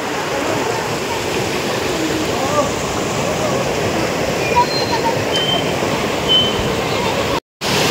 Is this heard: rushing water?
yes